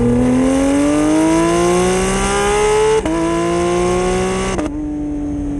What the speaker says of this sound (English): I'd even argue that I like this exhaust better